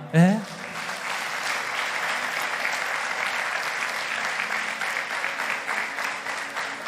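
Church congregation clapping steadily after a pastor's call to applaud, a dense sustained wash of hand claps that opens with a brief spoken word.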